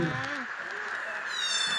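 A white cat meows softly a couple of times, close by and fairly faint, with a quiet voice speaking nearby.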